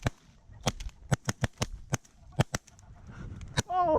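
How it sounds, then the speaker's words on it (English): Sharp shotgun blasts ring out in a rapid, irregular string of about a dozen reports during a goose hunt in a Canadian field, nearby and loud, with a goose honking briefly near the end. "Oh, nice shot, Greg, on that one."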